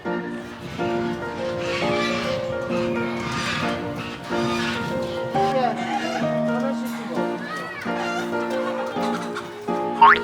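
Chickens cluck throughout on a clean eco farm open to visitors. The fowl calls sound steady and close, mixed in with people talking nearby.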